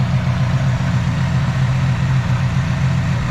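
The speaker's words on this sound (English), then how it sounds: "that carburetor is running" A 1972 Ford Pinto Runabout engine idles steadily on a rebuilt Motorcraft carburetor, a loud, continuous low rumble close to the listener with no voices over it.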